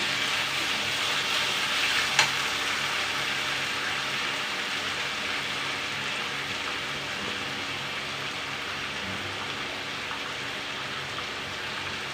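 Potatoes fry in a kadai, a steady, even sizzle with a hiss like light rain running unbroken throughout, with one faint clink early on.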